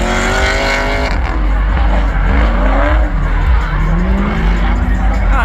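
A Nissan 240SX drifts at a burnout and drifting show, its engine howling through rising and falling revs while the tires skid and squeal. The sound is loud and near, with crowd or announcer voices mixed in.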